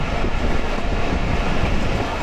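Bhatiapara Mail passenger train rolling through rural countryside, a steady broadband rumble of wheels on rails with soft clickety-clack, continuous and close, no voices.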